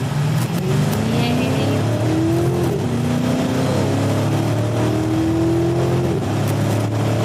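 A large luxury SUV's engine accelerates hard on an open road, its rising revs sweeping up through the gears and staying loud and close from inside the cabin throughout.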